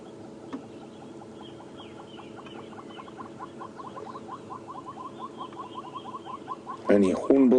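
Hornbills and a white-browed scrub robin call in the African bush on a sunrise safari drive: faint, fast, repeated clucking notes run steadily through the clip before a louder, sharper burst near the end.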